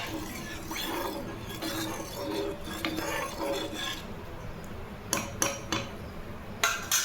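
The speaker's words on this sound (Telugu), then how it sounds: "ఇప్పుడు మనం ఒకసారి మిక్స్ చేసేసుకుందాం మంచిగా" A spoon stirs paneer curry in a pan over a high flame, giving soft scraping and a few sharp metallic clinks against the pan, fairly quiet and close.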